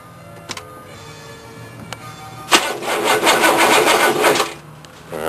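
A car engine cranks slowly on a rebuilt starter motor, a near, loud, laboring rhythmic churn lasting about two seconds after a few faint clicks, with no talking.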